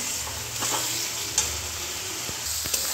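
Spice paste with potatoes fries in a pan for stuffed potato dum, a steady close sizzle broken by a few scraping stirs and light knocks of the spoon.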